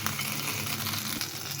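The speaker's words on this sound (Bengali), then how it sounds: "এখানে আমার ঘিটা গরম হয়ে গেছে।" Ghee heats in a pan with a steady, close, even sizzling hiss, continuous and alone without talk.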